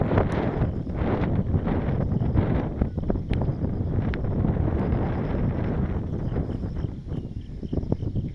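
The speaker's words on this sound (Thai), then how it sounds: "ก็ลมแรงมา" Strong wind gusting across a fog-covered mountain top, roaring and buffeting the microphone in a steady loud rush with rustling bursts throughout, no voices.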